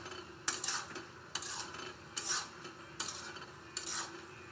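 A cucumber and prawn curry is stirred and sautéed in a pan, with five evenly spaced scraping strokes of a utensil against the metal over a low, steady background.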